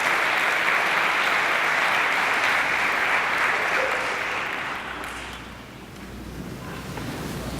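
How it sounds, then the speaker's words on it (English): An audience gives a round of applause for student leaders at a university President's Essay Contest, a dense, loud, sustained clapping wash that fades briefly before picking up again. "Please join me in giving all our student leaders a round of applause."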